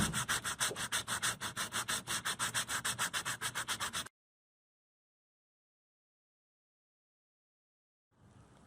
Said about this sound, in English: I'm going to sand it a little bit. I'm now moving to an 80 grit sandpaper.